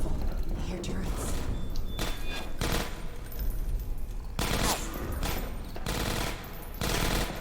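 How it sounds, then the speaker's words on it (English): Automated turrets fire in Half-Life 2: Episode 1, with repeated broadband bursts of gunfire arriving in clusters beneath ongoing talking. "I hear turrets."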